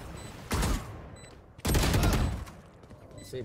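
Automatic gunfire in the Valorant shooter game comes in two sharp, loud bursts, one short and one longer, with quieter game ambience between them.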